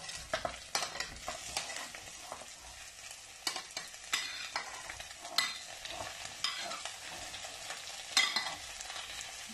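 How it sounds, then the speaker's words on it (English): Tofu frying in a pan, with sizzling oil and repeated scraping and clacking strokes of a spatula being stirred, close up with no talking. "You know why I fried the tofu, guys?"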